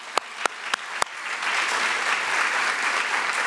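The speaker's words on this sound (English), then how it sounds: "which you're gonna give one more round of applause to." A graduation audience breaks into applause: a few loud single claps ring out first, then a dense, steady wash of clapping from a large crowd fills the room and continues to the end.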